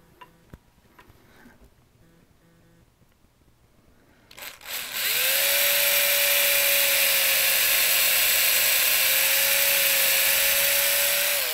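A drill bores into a guitar headstock while fitting Kluson tuners. A few faint clicks come first, then the drill spins up into a loud, steady whine with a constant pitch that runs for several seconds, close up and without talk.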